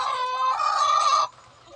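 An egg-laying hen gives a single drawn-out, loud cackling call up close, then it cuts off, leaving faint low farmyard murmurs.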